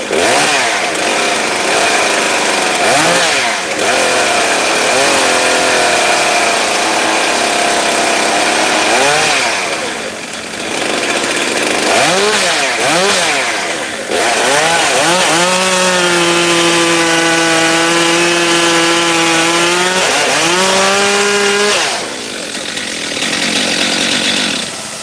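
A chainsaw cuts firewood for a local firewood business, its engine snarling loudly and continuously, revving up and down through repeated bursts before settling into a steady high whine as it bites through a log.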